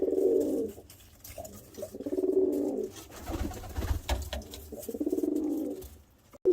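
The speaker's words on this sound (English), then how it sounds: "There are so many birds in here, and they're all these cockbirds going crazy" Excited pigeon cockbirds coo repeatedly in a crowded breeding loft, several rolling, throaty bursts close by with faint flutters and shuffling in between.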